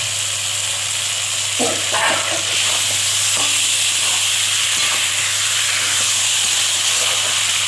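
Cumin paste hits hot oil in a pan for a cauliflower, bori and bhetki fish curry, giving a loud, steady sizzle with faint stirring scrapes.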